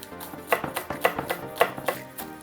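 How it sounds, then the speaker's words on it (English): A knife slicing green onions on a board, with a steady rhythm of crisp, close chopping strikes spaced about half a second apart and no voices. "we're gonna finally slice up some green onions"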